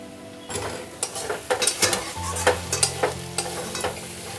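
A spoon stirs soy sauce, red chilli sauce and cornflour through a soya and egg taco filling in a pan, giving repeated scraping strokes over a low sizzle. A steady hum runs underneath, with no talking.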